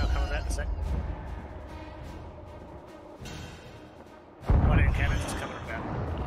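Ship cannons boom in Sea of Thieves while firing at an emissary sloop, deep rumbling blasts with a heavy low-end roar, the loudest surging near the end over ongoing sea and wind noise.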